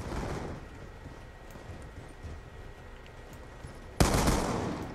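A shotgun fires in Black Ops 2 on the Express map, one sharp, loud blast near the end followed by a rumbling tail, after several seconds of low background game noise.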